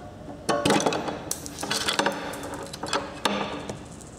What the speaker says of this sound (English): just twist the tool to remove the anchor pins